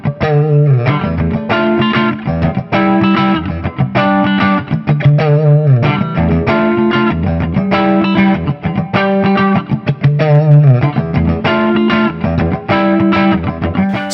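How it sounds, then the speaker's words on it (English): A Gibson Kirk Hammett Les Paul Standard 'Greeny' electric guitar plays a heavily distorted, rhythmic riff of chugging chords and repeated phrases, loud and up close with no talking. "So the sounds and tones that you can get out of this neck and bridge position is just straight up classic Les Paul."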